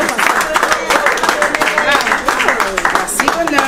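Wedding guests at a town hall and church ceremony clap and cheer together, a steady close round of applause filling a few seconds.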